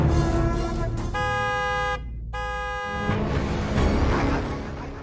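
A car horn sounds in two loud, sustained honks separated by a short gap, set against a background of street noise.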